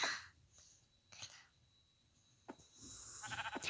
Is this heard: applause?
no